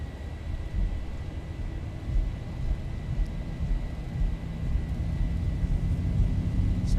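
Jet engines of a Boeing 737 spool up toward takeoff thrust in the X-Plane 11 flight simulator, a continuous deep rumbling roar that swells gradually and holds steady with no talking.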